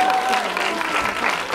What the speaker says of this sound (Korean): 박수 보내주세요